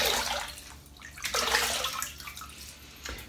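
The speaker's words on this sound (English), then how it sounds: "It is odd splashing hot water on my face" Close hot water splashing in a few quick bursts, like handfuls of water hitting a face over a basin, with dripping between.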